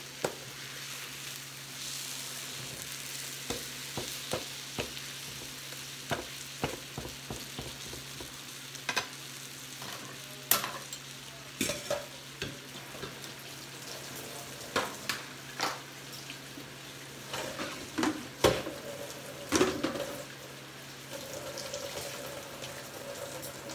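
Pork chops sizzle on a grill in a steady, faint, low crackle, broken by scattered sharp pops and clicks of moving utensils, with no voices heard.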